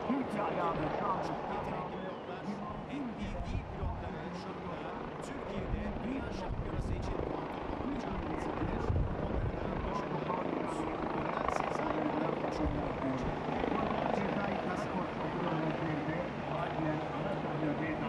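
Racing drones flying at a TEKNOFEST show in Istanbul, a continuous whirring propeller buzz rising and falling under an announcer talking over a loudspeaker and crowd noise.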